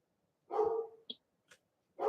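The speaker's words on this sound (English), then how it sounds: "1 second, my dog is shouting" A dog barks indoors at a moderate distance, two full barks separated by a short yip and a faint whimper, with quiet gaps between them and no speech.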